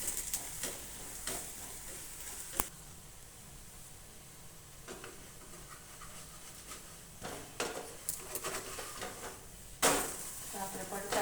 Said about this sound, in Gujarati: આ રીતે આપણે પલટાવી લઈશું ફરી બીજી સાઈડ શેકી લઈશું